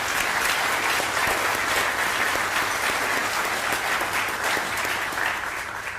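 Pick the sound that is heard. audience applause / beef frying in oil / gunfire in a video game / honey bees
audience applause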